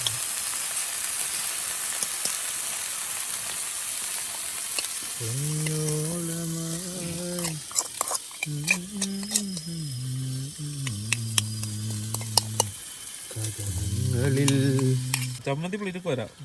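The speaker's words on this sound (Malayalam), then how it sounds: "ഒരു സെക്ഷൻ മീൻ വീണ്ടും പൊരിച്ചാൻ ഇട്ടിട്ടുണ്ട്" Fish sizzles in a frying pan with clinks and scrapes of a utensil, while a tonal humming or droning sound cuts in and out over the steady frying.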